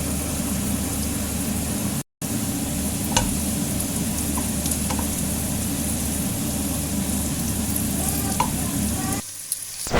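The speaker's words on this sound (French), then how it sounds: "j'ai bien laissé griller mon riz" Rice toasting in a pan for a smoked-fish fried rice, giving a steady close sizzle with faint stirring scrapes throughout and a brief dropout near the start.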